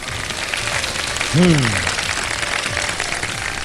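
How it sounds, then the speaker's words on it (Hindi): A studio audience at a televised Ramadan iftar quiz show applauds a contestant, a steady wash of clapping throughout, with a brief voice or tonal sound rising over it partway through. "बहुत सारी तालियां जनाब इनके लिए।"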